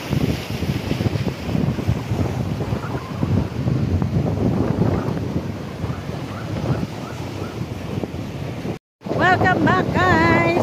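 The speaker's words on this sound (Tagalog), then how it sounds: "Sobrang hangin." Strong wind at Tanjung Bato buffets the microphone in a constant roaring rush, with surf-like gusts throughout and a brief cutout near the end.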